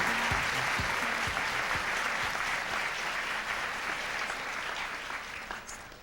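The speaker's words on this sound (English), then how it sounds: "let's have a final round of applause for all 10 semifinalists in tonight's swimsuit presentation" Sustained audience applause at a beauty pageant for the swimsuit semifinalists, dense clapping from a large crowd that stays strong for several seconds before gradually thinning out.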